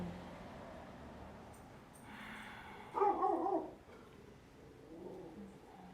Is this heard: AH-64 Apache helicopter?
no